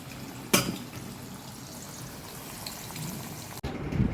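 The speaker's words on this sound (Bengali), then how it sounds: "আমাদের এখানে কুমড়ো ভাজা হচ্ছে এবার।" Pumpkin slices fry in hot oil, giving a steady, moderately loud sizzle with a sharp crackle early on and a brief break near the end.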